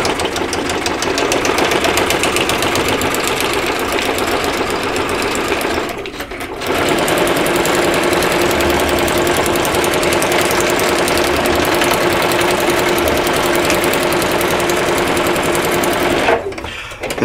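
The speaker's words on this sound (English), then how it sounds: "you could top stitch this more than once if you were worried about that seam coming out" A sewing machine top stitches slippery plastic feed sack material into a bag, whirring loud and steady for long stretches with a short pause partway through and a stop near the end.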